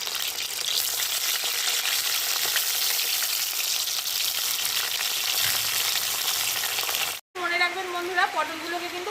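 Pointed gourd sizzles in hot mustard oil in a kadai on a stove, a loud, steady, dense crackle that runs for about seven seconds, then cuts out abruptly before a brief voice is heard.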